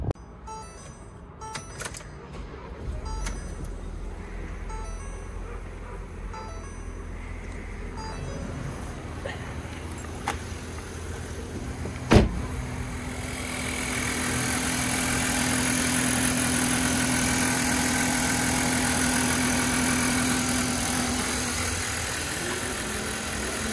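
A 2020 Ford Transit Connect XL is cranked with a sharp click, then its engine settles into a steady, moderately loud idle with a faint whine after some quiet rattling and mechanical noises at the start.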